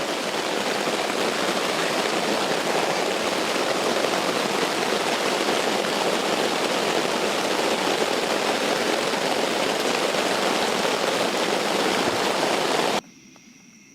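Heavy rain pours down outdoors in a loud, steady hiss with no let-up, then cuts off abruptly near the end, leaving only faint quiet background.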